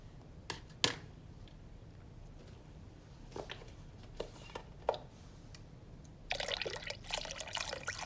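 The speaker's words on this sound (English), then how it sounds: "Gonna add a little more broth." Broth pours into a crockpot pot roast at close range, a quiet splashing trickle near the end after a few faint clicks and taps.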